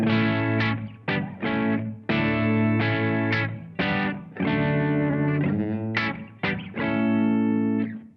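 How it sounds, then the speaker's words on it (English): Humbucker electric guitar through a Blackstar ID:Core V4 amp on its warm clean voice, strumming a run of sustained ringing chords in a steady rhythm, loud and close with no talk. "So warm clean sounds like this."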